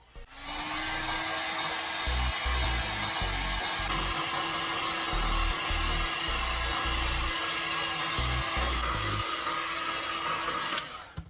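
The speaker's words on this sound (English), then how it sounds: "use a heat gun or a hair dryer to warm up the plastic" Steady, loud blowing hum of a heat gun warming plastic, a constant whooshing airflow with a low motor drone underneath, cutting off abruptly at the end.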